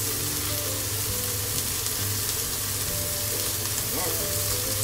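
Beef steak and garlic fry together in a hot pan, a continuous close sizzle and crackle that holds steady throughout with an occasional faint stir.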